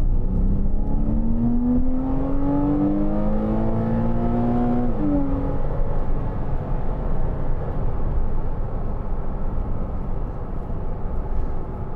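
A 2012 Porsche Cayman 2.9 (987) with PDK gearbox accelerates, its engine note climbing steadily for several seconds before a brief shift, then settling into a steady loud drone with road noise.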